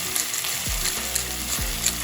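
Onion cooks in unsalted butter in a pan, sizzling and frying steadily with a close, even crackle and a couple of soft scraping stirs.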